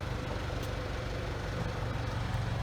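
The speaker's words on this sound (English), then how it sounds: "Sorry about the tractor noise in the background, but it is a tractor shop." A tractor engine idles in the background of a tractor shop, giving a faint, steady low rumble with no talking over it.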